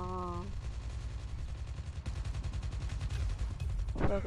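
Automatic M4 rifle fire in Call of Duty Mobile, team deathmatch: a rapid, even stream of quiet shots rattling steadily through most of the clip, with a short tonal game chime at the start and a brief voice near the end.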